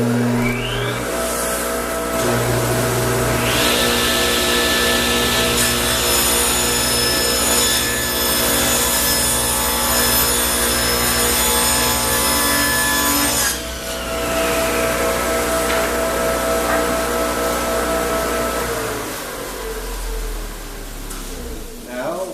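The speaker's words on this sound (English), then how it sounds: "Its primary use in this shop is as a rip saw. So I've set it for 4 inches, which will get rid of this rough edge" A table saw rips a rough edge off a wooden board in a woodshop, its motor humming loudly and steadily while the blade cuts through the wood for about thirteen seconds before the pitch drops and the saw keeps running, with voices partly over it.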